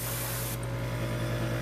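An airbrush sprays primer onto a miniature for zenithal priming, a close, steady hiss of air and paint that cuts off partway, leaving a lighter airy hum.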